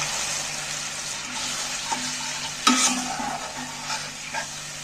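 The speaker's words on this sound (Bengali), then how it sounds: "আমি বাটি ধোয়া জল একটু সাইড দিয়ে দিয়ে দিচ্ছি।" Water from rinsing a bowl is poured into a pan of cooked spice masala with the oil separated, giving a soft steady sizzle with a sharper splash and hiss partway through, close and alone.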